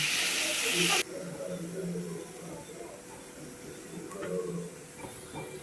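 Cut vegetables frying in a pan for egg rice, a loud steady sizzling hiss that drops to a softer continuous frying crackle, with faint talk in the background.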